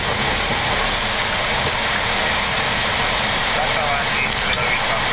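Boeing 737 jet engines roar steadily at takeoff power during rotation, a loud broadband rush heard from inside the cockpit with faint crew voices underneath.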